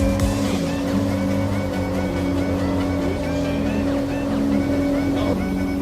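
A 2017 Mercedes-Benz C200 cabriolet idles steadily up close, its even engine hum and drone holding throughout with no talk.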